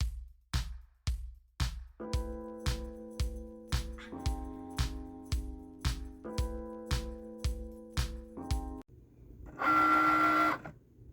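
A Cricut machine cutting vinyl for a balloon gives a quick run of evenly spaced mechanical clicks and thumps, then steady whirring motor passages, and ends in a brief louder whir; the sound is close and clear with no talking.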